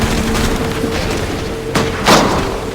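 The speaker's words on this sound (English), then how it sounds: "Return fire! Return fire!" Gunfire in Assassin's Creed III, a dense battle din of booming musket shots with a couple of sharp, louder blasts standing out near the end.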